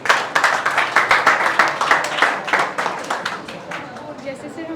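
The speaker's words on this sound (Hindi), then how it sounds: "ताली बजाओ पहले इसके लिए" Classroom students at a convent school clap for a classmate: a quick, irregular run of many hand claps, fairly close and steady throughout, with scattered voices underneath.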